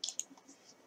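A computer mouse double-clicked while editing in photo software, two quick sharp clicks close together at the start followed by a faint tail of quieter noise.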